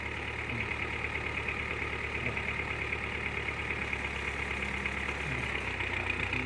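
An M5000 tractor engine idling steadily at close range, a continuous low rumble with no voices.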